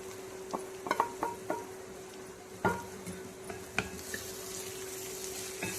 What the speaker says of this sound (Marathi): आता याला चांगलं मिक्स करून घेऊ आपण.